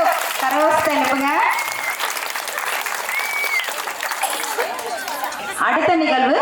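Crowd applause at a temple festival cultural performance, loud continuous clapping mixed with chatter, while a voice speaks over it at the start and again near the end.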